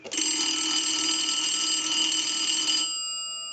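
An electric telephone bell in a 233G three-slot payphone, rung by a line analyzer, sounds in one continuous, harsh metallic burst for nearly three seconds, then cuts off and leaves a faint fading hum.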